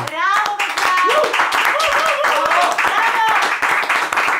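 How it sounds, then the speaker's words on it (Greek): A small group in an intimate music session claps after a song, quick close handclaps under overlapping voices and cheerful chatter, including a voice. "Καλά, χειροκρότημα"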